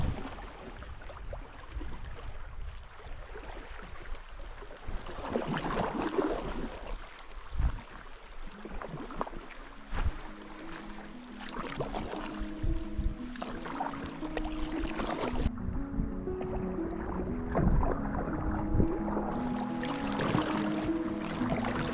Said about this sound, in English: It's like 4 straight minutes of paddling.